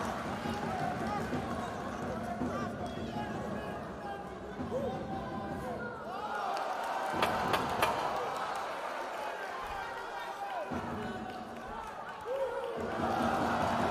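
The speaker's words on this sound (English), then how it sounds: "the crowd responding to that" A boxing crowd at a women's pro bout in Banja Luka roars in a long sustained swell of cheering, with punch thuds and scattered claps, beneath steady ringside commentary.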